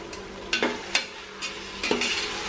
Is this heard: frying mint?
yes